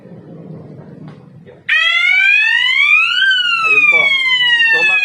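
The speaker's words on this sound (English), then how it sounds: "nag-trigger yung ating panel by inducing a smoke sa ating smoke detector." A fire alarm panel, set off by smoke at a smoke detector, suddenly blares a loud, steady electronic siren tone that sweeps up and then down in pitch, after faint background talk.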